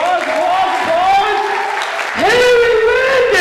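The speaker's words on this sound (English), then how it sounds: "let's go, applause" Audience applause and crowd noise at a Mr. Highland Park pageant show, running under a loud, excited announcer's voice that dominates throughout.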